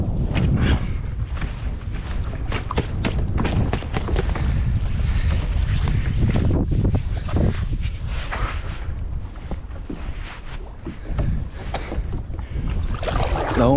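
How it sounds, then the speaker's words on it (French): Strong wind buffets the microphone during a boat crossing, a constant loud, rough roar with gusty swells and water noise underneath. "Il y a beaucoup de vent là."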